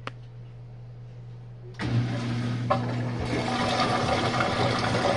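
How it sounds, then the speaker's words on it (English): A Samsung WF45N5300AW washing machine starts draining: after a low hum, a sudden steady rush of water and pump noise kicks in and continues loudly to the end. "I want you guys to listen to the draining."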